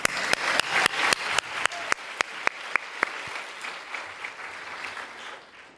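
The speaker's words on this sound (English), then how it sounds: "Let's just give them a round of applause." An audience at a Stanford datathon event bursts into applause, strong dense clapping with crisp individual claps up front that gradually thins and fades out over a few seconds.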